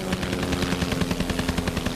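A WWI aircraft machine gun fires a sustained rapid burst, dense and loud with evenly spaced repeating shots throughout, heard alone without speech.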